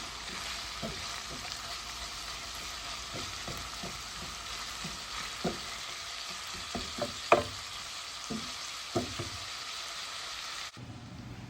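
Ginger stir-fries in olive oil in a pan with a soft, even sizzle. Scattered spatula taps and scrapes sound close by, and the frying cuts off abruptly at the end.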